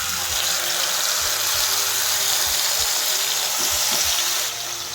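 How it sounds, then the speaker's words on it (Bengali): Onion paste fries in leftover fish-frying oil for a prawn dish, heard as a loud, steady close sizzle with occasional low knocks from stirring and no talking. "এটা আমি খুব ভালো করে ভেজে নেব যতক্ষণ না পেঁয়াজের কাঁচা গন্ধটা যাচ্ছে।"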